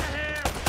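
Gunfire from Uncharted: Drake's Fortune, a couple of short, sharp shots in quick succession near the end, over a steady bed of game music and ambience.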